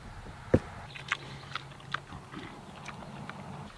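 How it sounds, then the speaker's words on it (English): Six-month-old homestead pigs chewing and crunching on roots they have dug up, with a sharp bite near the start and scattered crunches and scrapes after, close and without talk. "They're chewing on these roots."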